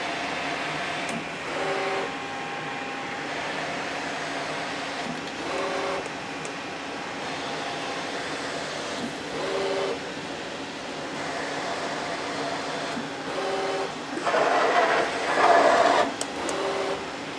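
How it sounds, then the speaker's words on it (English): A lathe spindle runs while threading a steam engine part for vintage machinery, a steady mechanical hum and whir with periodic tonal pulses that swell louder near the end. "turn on the spindle, and then when I hit go again, it's going to start threading"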